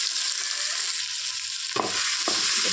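Cinnamon, cloves and onion fry in a pan with a continuous bright sizzle, close and even, joined near the end by two quick spatula scrapes against the pan; no one speaks.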